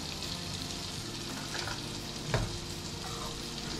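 Finely chopped garlic fries over low heat in a pan alongside fish caught deep-sea fishing off St Lucia, South Africa, with a soft, continuous sizzle and one brief clatter partway through.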